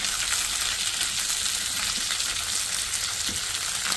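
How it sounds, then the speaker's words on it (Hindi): Onion, green chillies and tomatoes frying in a pan, giving a steady, even sizzle throughout with no voices. "3 से 4 हरी मिर्चें, इनको भी बीच में से कट कर ली और 2 दरमियानी टमाटर, इनको हम करेंगे थोड़ा सा फ्राई"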